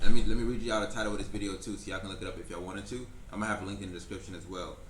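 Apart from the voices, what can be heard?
No distinct noise like a dog, phone or traffic.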